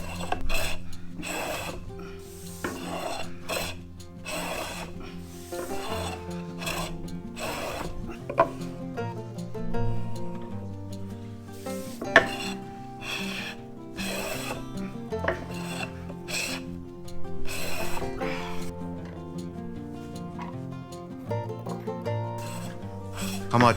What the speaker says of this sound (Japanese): かまちと板を削り合わせていきます